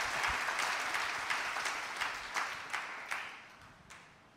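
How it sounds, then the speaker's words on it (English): A church congregation claps together in a warm burst of applause that holds steady, then gradually fades out. "Let us clap."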